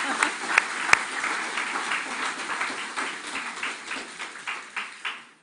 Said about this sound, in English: He gets another applause.